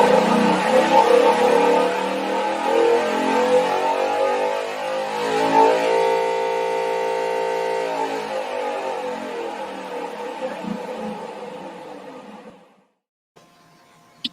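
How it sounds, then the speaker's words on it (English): A racing engine spins up on a Spintron test rig, its clattering valves and surging springs building into a sustained mechanical whine that rises in pitch, then cuts off abruptly with a brief rattle. "the vast majority of the noise that the engine makes is just the clattering of valves opening and closing and springs clashing and surging"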